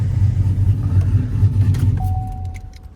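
A muscle truck's engine idles with a deep, loud, lumpy rumble close by, then settles and quiets near the end as a thin steady whine appears.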